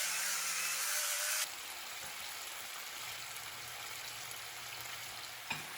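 Chicken pieces fry in a hot pan with a continuous, even sizzle that shifts abruptly partway through, then carries on as a softer, steady crackle.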